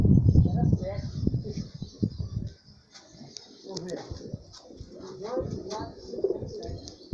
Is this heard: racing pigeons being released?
yes